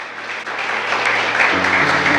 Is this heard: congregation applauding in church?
yes